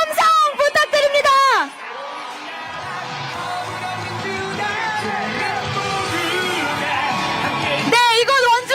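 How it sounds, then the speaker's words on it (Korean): An outdoor election rally crowd in Wonju cheers, shouts and applauds for Lee Jae-myung in a sustained roar. An amplified voice speaks over a loudspeaker just before and just after the crowd noise. "뜨거운 박수와 함성 부탁드립니다."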